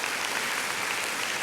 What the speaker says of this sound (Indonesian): Ayo kita kasih tepuk tangan yang paling meriah buat Tuhan kita.